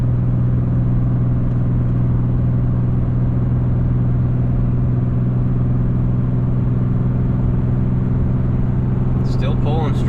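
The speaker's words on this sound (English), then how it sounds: "You gotta like the way the Cummins sounds, especially the exhaust brake." A Dodge Ram 4th gen Cummins diesel pickup towing a 32,000 lb load up hills in eastern Nova Scotia, its engine droning in a loud, steady low rumble from inside the cab, with a brief faint chirp near the end.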